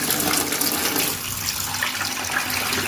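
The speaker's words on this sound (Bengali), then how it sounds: "এখন চিড়ে ধোয়া চলছে" Flattened rice (chira) being rinsed in water in a home kitchen for pulao, a steady close rush of sloshing, splashing water throughout with no talking.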